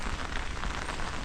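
Steady rain falling outdoors in the small hometown of Williamson, West Virginia, a dense continuous hiss of drops on surfaces, even and fairly loud throughout with no voices.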